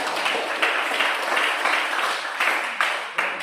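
A classroom group claps steadily for a few seconds after a presentation, dense and fairly loud, with no voices standing out.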